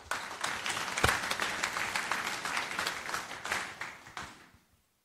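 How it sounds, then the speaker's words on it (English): Audience applause at a FOSDEM 2024 conference talk, a steady wash of clapping from a crowd that swells quickly, holds for about four seconds and fades out at the end. "Can we get a round of applause, please?"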